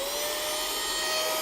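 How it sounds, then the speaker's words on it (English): A Fixr mini vacuum cleaner and blower running just after its button is pushed, a loud, steady high-pitched whine with a constant airy roar, close and uninterrupted. "So that's basically the vacuum cleaner itself. So next, if I push the button,"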